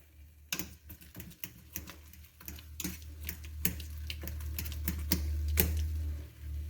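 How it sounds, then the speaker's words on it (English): Potatoes mashed by hand in a bowl, a run of irregular soft taps and thuds repeating close by, with a low hum underneath. "Let's mash them up a little bit."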